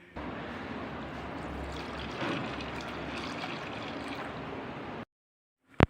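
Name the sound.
water poured over lentils (dal) in a bowl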